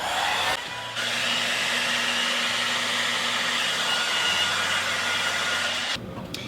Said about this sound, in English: we're just going to take the hairdryer and dry this coat down before we put another coat on.